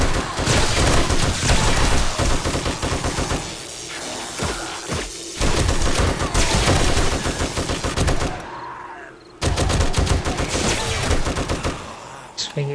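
An M60 machine gun in the survival video game 7 Days to Die fires loud, sustained automatic bursts, with a couple of brief pauses between volleys.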